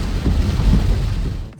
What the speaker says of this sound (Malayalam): നല്ല മഴയാണ്, നല്ല അടിപൊളി മഴയാണ്.